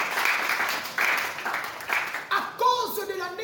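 A church congregation applauds steadily in rhythmic waves while a voice speaks over them, and a cheering cry rises near the end.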